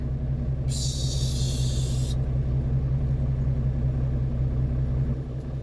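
A short burst of sharp air hiss, like suction, cuts in for about a second and a half over a steady low engine rumble.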